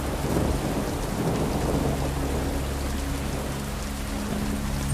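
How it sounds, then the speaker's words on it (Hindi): Drizzling rain hisses steadily under a cloudy sky as low thunder rumbles continuously, loud and enveloping, with no voices. "बादल हैं, बूंदाबांदी हो रही है और भी डरावना माहौल बन गया है।"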